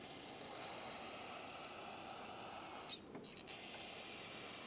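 Brake parts cleaner sprays from an aerosol can onto the valve cover area of a 3.6L Dodge Grand Caravan engine, a continuous close, loud hiss that breaks off briefly for a few sputtering bursts before resuming.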